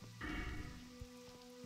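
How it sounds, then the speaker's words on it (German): Rain falling in the game World of Warcraft Classic, a steady soft patter across the whole short stretch, fairly quiet with a few low thumps and a faint tonal hum underneath. "Ja, natürlich, jetzt regnet es wieder."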